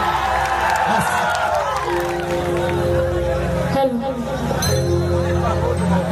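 An audience at a live stage show claps and cheers for the performing artists, a steady roar of crowd noise and applause mixed with amplified voices speaking over it.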